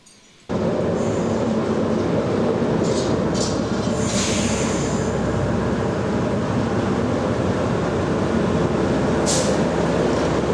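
A heavy heritage train rumbles steadily at close range as it is moved into a shed, a continuous low roar with faint squeals and clanks on top, no talk.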